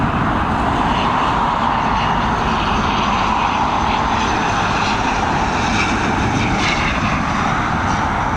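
An ATR 72-600 turboprop arrives at Dublin Airport from Birmingham, its propeller engines producing a steady, loud, broadband roar that stays constant throughout with no voices.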